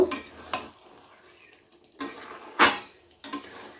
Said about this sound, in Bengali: এবারে হালকা হাতে পেঁয়াজ আর কাঁচা লঙ্কাটাকে এর সাথে মিশিয়ে দেব